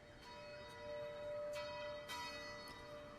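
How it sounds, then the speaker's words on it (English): Distant church bells ring out in a faint, steady series of tolls with a sustained ringing hum, heard alone in an open outdoor setting. "You can still hear those bells off in the distance."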